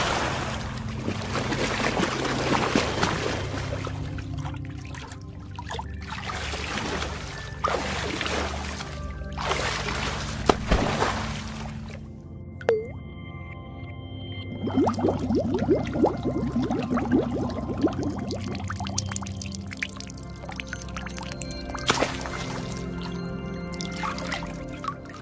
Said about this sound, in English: Why I run cold water